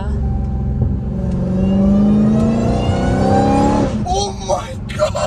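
A Dodge Hellcat Redeye with a new cold air intake revs hard. The engine note climbs steadily with a rising supercharger whine, then drops off as excited voices break in near the end.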